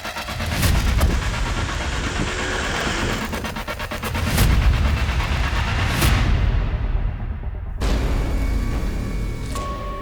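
A motorbike engine roars loud and close throughout a chase, a dense, continuous rumble punctuated by sharp thuds and booms.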